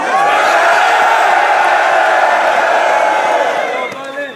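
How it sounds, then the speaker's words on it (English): A rap battle crowd roars and cheers for both MCs, a loud sustained wall of shouting and whooping that holds steady before tapering off near the end. "please make some noise for both MCs"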